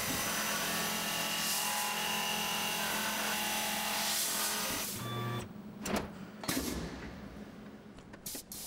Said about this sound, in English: And a quick superfly to clean up that face.